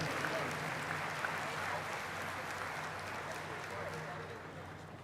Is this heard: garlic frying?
no